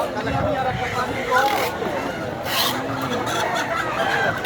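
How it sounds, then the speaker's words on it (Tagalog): Large chickens cluck and chatter in a noisy animal market in Dammam, Saudi Arabia, with people talking nearby over the steady background din. "Naglabasan na yung mga giant na manok."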